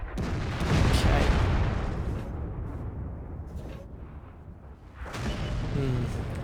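Artillery fire in World of Tanks, with a deep booming shot blast that rolls off into a rumbling tail and a second heavy rumble near the end, while someone talks over the game.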